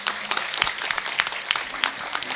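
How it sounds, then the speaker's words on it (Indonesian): Audience at a religious gathering clapping together, a dense, close round of many hands with sharp individual claps standing out, lively and fairly loud for a couple of seconds. "tepuk tangan dulu."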